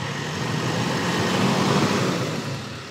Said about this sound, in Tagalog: So mas naging agresibo na yung makina ngayon